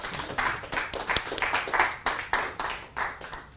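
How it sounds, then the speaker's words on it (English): An audience claps after a magician's card trick, sparse and uneven clapping in separate sharp bursts that rise and fade over a few seconds. "Thanks for applauding that."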